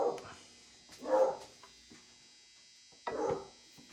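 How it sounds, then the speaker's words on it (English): A dog barks three times, single sharp barks spaced apart at moderate distance, with quiet gaps between them. "Just ignore the barking dog in the background."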